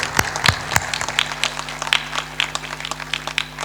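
An audience claps in applause at a large gathering, a steady patter of many hands close by lasting a few seconds, with a faint hum underneath.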